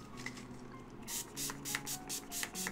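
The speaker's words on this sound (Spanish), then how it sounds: "Un poquito de spray." A can of spray is applied during a makeup and hair routine, giving a series of short, close hissing bursts in a quick rhythm over a quiet room.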